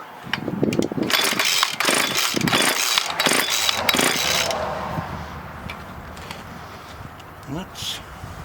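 A Stihl FS36 string trimmer engine pulls over and catches, revving loudly and unevenly before settling to a quieter idle, with someone talking over it.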